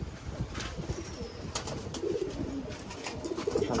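Tournament racing pigeons, mostly golden-type birds including females, coo softly in a loft, several overlapping throaty coos repeating through the short stretch with some rustling.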